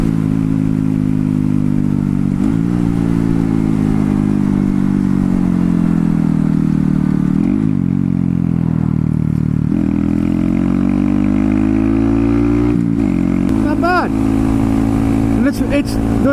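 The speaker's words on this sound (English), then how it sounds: "The exhaust really isn't that loud." Honda Grom motorcycle fitted with an Aodonly racing exhaust idles and revs close by, a steady low engine note with several throttle blips rising and falling over sixteen seconds, with a few voices underneath.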